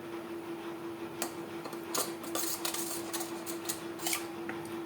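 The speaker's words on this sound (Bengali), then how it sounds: "সামান্য পরিমাণে জল দিয়ে হলুদ আমি গুলে নেব।" Turmeric being mixed with a little water in a bowl: soft clinks and scraping taps of a spoon against the bowl, several quick strikes over a faint steady hum.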